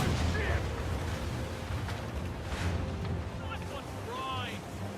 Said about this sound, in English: essentially the exploding shot front cannon.